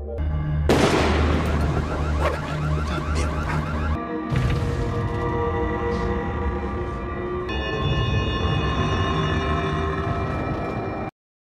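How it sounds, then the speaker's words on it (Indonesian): A continuous barrage of loud explosions across a city, booms and blasts with a deep rumbling low end, dense and chaotic, punctuated by sharp cracks over a churning background. "Tiba-tiba saja terdengar suara ledakan yang tak jauh dari sana, diikuti dengan ledakan-ledakan lain di seluruh penjuru kota."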